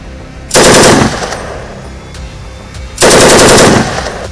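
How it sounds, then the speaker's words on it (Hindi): Army weapons including a Negev MMG and sniper rifles fire during a military exercise, with two loud sustained bursts of rapid automatic gunfire, close and powerful, separated by a quieter gap with a few isolated reports. "ये आर्मी को मिले मैक 4 रॉकेट लॉन्चर, निगेव एमएमजी और सेंको स्नाइपर राइफल्स की आवाज है"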